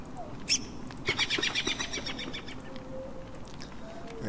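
A bird in the video game Don't Starve being fed monster meat, giving a short series of bright chirps and tweets amid soft game background sounds.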